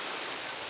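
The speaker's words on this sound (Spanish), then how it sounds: "Y hay un poco de olas, pero no tanto." Small ocean waves at a beach in the Philippines, a brief, steady broadband wash of surf with soft hiss, no speech.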